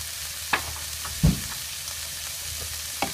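Pickled mustard greens stir-fry in a pan with a soft, steady sizzle, and three or four distinct knocks and scrapes of the spatula land against the pan at uneven intervals.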